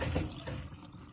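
Water poured from a cup into a saucepan in a home kitchen, a brief close splash and gurgle lasting about a second.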